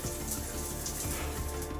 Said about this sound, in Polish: gorący prysznic podwójny